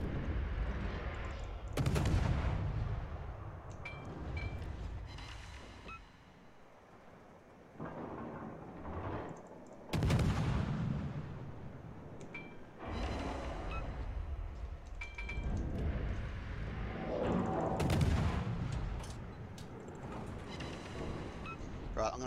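Ship guns in the World of Warships game boom in several heavy, rumbling salvos spaced a few seconds apart, each rolling off into a long tail, with a player's voice talking between and over them.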